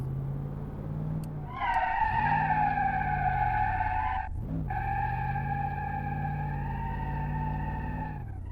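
A car with a Mopar 318 V8 in BeamNG.drive revs loudly, with a steady engine tone that dips briefly midway and then holds again, heard alone.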